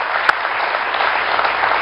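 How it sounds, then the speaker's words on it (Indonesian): Studio audience applauding on an Indonesian TV talk show, a steady wash of many hands clapping at even loudness, with one sharper clap standing out near the start. "Tepuk tangan dong."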